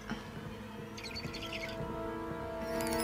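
An eagle calls in a scene from the TV show Peacemaker, with a few shrill, high cries rising over a steady bed of tonal music and ambience, fairly close and with no talking.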